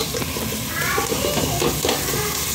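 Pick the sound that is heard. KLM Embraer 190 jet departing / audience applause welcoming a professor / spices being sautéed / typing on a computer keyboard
spices being sautéed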